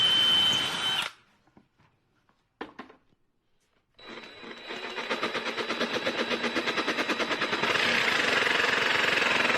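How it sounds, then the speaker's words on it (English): After a short burst and a quiet gap, a power drill bores a hole in plywood, its loud rapid whir building and rattling steadily close by, with no talking. "I'll just start by drilling a hole so I can get the jigsaw in"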